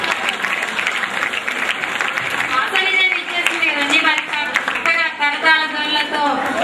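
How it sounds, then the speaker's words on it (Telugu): Audience applause welcoming a performer onstage at a Telugu devotional drama about Sri Vasavi Kanyaka Parameswari, a dense, steady wash of clapping that runs throughout, with a voice speaking over it and music-like tones rising in the second half. "కరతాళ ధ్వనులతో కనుల విందుగా ఉన్నట్టు చప్పట్లతో ఆమెను ఆహ్వానించాము."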